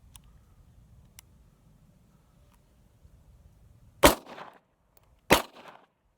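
Two sharp, loud pistol shots from a Walther P38/P1, about a second apart, each with a brief outdoor echo after a long quiet lead-in.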